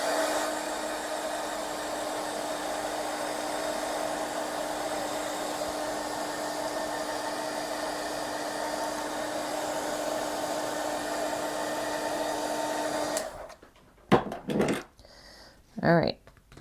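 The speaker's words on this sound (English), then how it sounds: "I'm going to use my heat tool to dry everything so we can start adding on some more layers." A heat tool dries watercolor paint in a journal, a steady loud whirring hum running for about thirteen seconds before cutting off, followed by a few light knocks and handling sounds.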